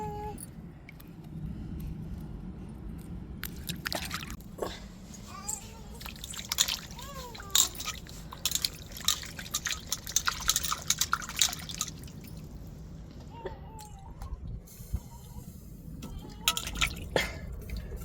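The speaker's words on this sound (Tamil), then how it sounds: "அந்த வெந்நீரில் கொண்டு போய் நம்ம உருளைக்கிழங்க நல்லா கழுவிட்டு சேர்த்துருவோம்." Potatoes are washed and dropped into hot water in a home kitchen, with scattered drips, splashes and sloshing throughout, and a voice speaks faintly at times underneath.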